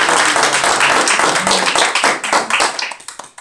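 A church congregation claps for a woman coming forward during a sermon: dense, fast hand claps for about three seconds that thin out and fade toward the end, fairly loud and close.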